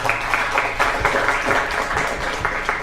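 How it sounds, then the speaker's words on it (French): A short burst of audience applause at an event about crypto mining, clapping close and fairly loud with a few distinct sharper claps standing out through the wash. "est-ce qu'on peut l'applaudir à ce niveau-là, s'il vous plaît?"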